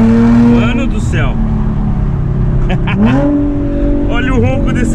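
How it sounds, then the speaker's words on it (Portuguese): An Audi A7 with a straight-pipe exhaust rumbles loudly close by, its deep roar rising and falling through several revs, while someone talks over it. "Olha o ronco desse carro, tio. Olha o jeito que tá roncando, mano."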